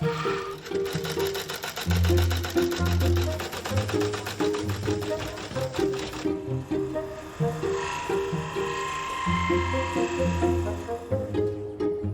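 Sewing machine stitching together leather pieces for a jacket repair in a workshop, running in steady rhythmic bursts with brief pauses between runs, moderately loud and close.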